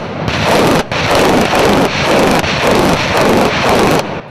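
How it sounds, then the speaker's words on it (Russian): Heavy flamethrower rocket systems fire volleys during a military emergency-response exercise. Loud, dense rushing blasts roll in close succession for several seconds, each one broken off by a brief gap. "По целям дают залпы из тяжелых огнеметных систем."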